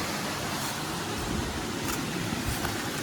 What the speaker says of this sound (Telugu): వాటర్ ఫ్లో అవుతుంది, ఆ సౌండ్ వినండి మీరు కూడా.